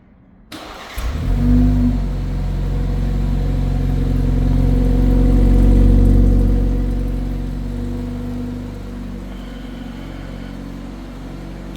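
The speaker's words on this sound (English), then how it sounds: "Little remote engine start, cold start sound there." A 2026 BMW 330i xDrive M Sport fires up by remote cold start, a sharp crank and flare followed by a loud, steady high idle that swells and then settles slightly lower, heard close with no talking.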